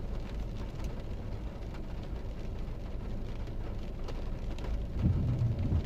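Steady heavy rain with a low rumble of thunder, recorded from inside a ride-share car on a busy rainy day; a dense, continuous wash that swells slightly near the end, with no talking.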